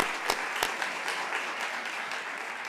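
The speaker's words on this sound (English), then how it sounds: "And now we can applaud." Audience applause at a college naming ceremony for an Athenaeum symposia series, steady broadband clapping from a large crowd filling the whole stretch at moderate level, with no talk over it.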